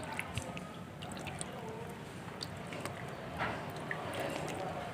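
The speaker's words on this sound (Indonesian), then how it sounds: "kita siram lagi." Water poured onto a freshly covered lime seedling tray or polybag, soaking into the soil with steady wet splashing and small drips, close and continuous, without speech.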